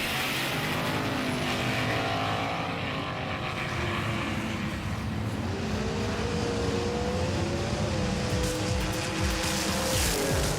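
Continuous roar of race cars battling on a track, with rising and falling engine tones as they pass and jostle, loud and unbroken throughout.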